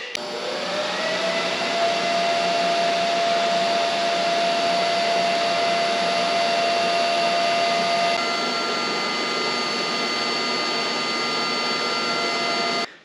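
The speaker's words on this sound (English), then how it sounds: "I'm just going to weld it together." Steady, loud arc welding of thick steel pieces for a truck bed on a Cummins-powered Dodge truck, a continuous buzzing hiss with a steady whine that holds for about thirteen seconds without talk.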